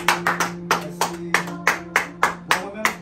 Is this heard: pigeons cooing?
no